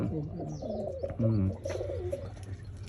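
Pigeons coo in soft, low burbling phrases, several overlapping calls close by, with some faint talk mixed in.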